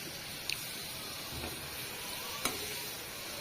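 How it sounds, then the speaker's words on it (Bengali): Prawns simmer in coconut milk in a pan in a village kitchen, giving a steady, soft bubbling hiss with a couple of faint utensil taps, heard alone. "এবার চিংড়া মাছ রান্না করতেছি।"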